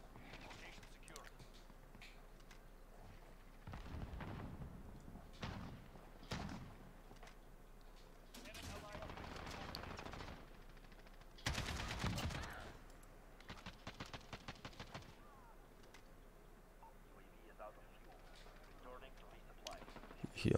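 Bursts of MP5 submachine gun fire in a first-person shooter match, short rapid volleys scattered through the stretch, loud and close at times, with quieter game ambience between and speech-like sounds from the game.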